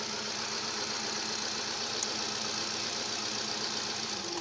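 A car engine idles steadily during a fuel injector test, a continuous mid-pitched hum with faint ticking, close and unchanging, with no voices.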